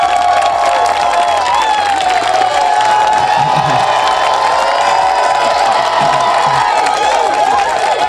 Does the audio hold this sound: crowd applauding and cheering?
yes